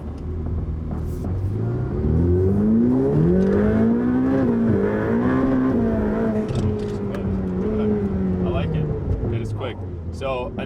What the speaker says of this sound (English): It's spinning the tires until 80 miles an hour.